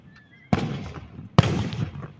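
Independence Day fireworks burst twice outdoors, each a sharp, loud bang followed by a crackling, rumbling decay, the second about a second after the first, with faint whistling before the first.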